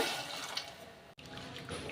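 Two cups of water splash and stream steadily into a pan of jaggery, a soft continuous pouring sound at close range with a brief break partway through.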